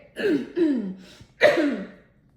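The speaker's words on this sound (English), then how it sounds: "before I read this card, I had to clear my throat again" A person clears their throat twice up close, two rough, voiced rasps separated by a short pause.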